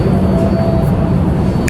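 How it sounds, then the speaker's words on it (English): A train pulling into a subway or rail station, a steady loud rumble with a sustained whine holding throughout, no voices over it. "wait, the train is coming in"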